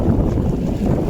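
Wind buffets a fishing boat out on choppy sea, a steady low roaring rush with no voices over it.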